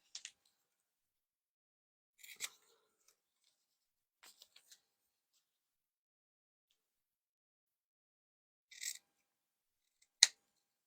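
Scissors snipping folded paper in a quiet room, a few short separate crisp cuts spaced several seconds apart, close and fairly faint.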